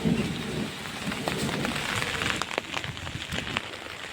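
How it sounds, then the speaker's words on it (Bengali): Rain pours steadily in a thunderstorm, a dense close hiss of drops hitting surfaces with a low rumble underneath, no voices. "দেখো যাচ্ছি আমি, বৃষ্টি পড়ছে"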